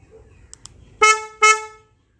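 Two short, loud horn beeps from a Hyundai Venue S sounding on lock and unlock, the car's own horn wired to the locking, about half a second apart after a brief quiet lead-in.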